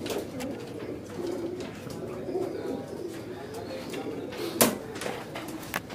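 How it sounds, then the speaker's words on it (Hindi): Caged pigeons coo softly and repeatedly, fairly close, over a quiet background hiss, with a sharper brief clatter near the end. "फ्रंट से भी दिखाता हूँ कबूतर"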